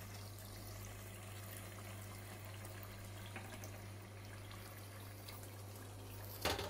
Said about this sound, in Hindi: अब हम इसमें 1 कप नीम गर्म पानी ऐड कर देंगे ताकि हमारा गोश्त अच्छे से टेंडर हो जाए।